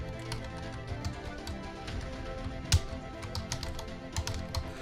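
Fast, uneven clatter of computer keyboard keys being typed, close and fairly quiet, with one sharper thump midway and no talk.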